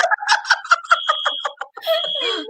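A rhythmic electronic alarm goes off, a quick series of repeated warbling chirps in a steady pulse, loud and close, then shifting into a longer warbling tone.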